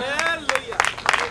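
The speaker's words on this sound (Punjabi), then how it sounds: "ਤਾਲੀਆਂ ਦੇ ਨਾਲ" Rhythmic clapping from a church congregation at a Christian worship service, with a sharp burst about every third of a second, sounding under a voice that speaks or sings throughout.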